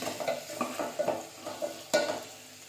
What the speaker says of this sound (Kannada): ಗೋಲ್ಡನ್ ಕಲರ್ ಬರೋವರೆಗೂ ಇದೇ ರೀತಿಯಲ್ಲಿ ಫ್ರೈ ಮಾಡ್ಕೊಳ್ಳೋಣ.